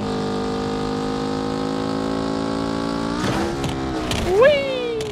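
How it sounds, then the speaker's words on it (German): A race car engine drones steadily at high revs in the driving game BeamNG Drive, then jolts and shifts pitch with rattling impacts as it hits potholes, a sharp rev spike near the end. "Also einmal könnt ihr euch einen schönen Racewagen holen, richtig voll Stoff geben und einfach mal drüber brettern"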